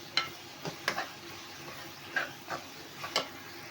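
Softened tomatoes with black pepper powder and whole cumin are stirred in a pan. A spoon scrapes and taps in irregular strokes over a faint sizzle, close by and moderately quiet.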